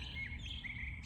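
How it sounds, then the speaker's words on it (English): Small birds chirp and tweet continuously in a dense, steady chorus at moderate distance, with bright overlapping calls and a low background rumble beneath. "these birds are chirping so hard."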